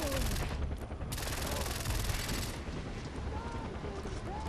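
Submachine gun fire in the Far Cry 4 video game, a dense continuous burst of rapid gunshots with explosive booms, loud and close throughout.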